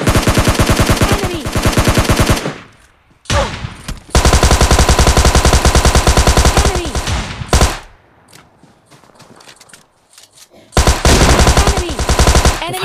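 Heavy automatic gunfire from the mobile shooter PUBG Mobile Lite during an intense fight, loud rapid bursts filling long stretches, broken by brief pauses and a few isolated shots.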